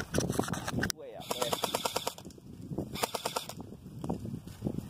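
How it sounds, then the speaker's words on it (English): Rapid bursts of automatic gunfire from a rifle switched to full auto outdoors in the woods while squirrel hunting, sharp repeated cracks in quick strings, loud and close, with someone talking between bursts. "he left his gun. So we just gonna switch that to full auto"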